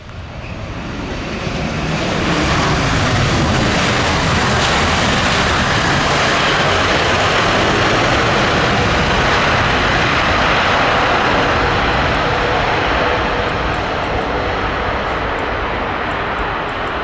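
A Vietnam Airlines Boeing 787-10 Dreamliner lands on runway 07L, its engine roar swelling within two seconds into a loud, sustained broadband rumble that holds steady close by for the whole stretch, with no talking.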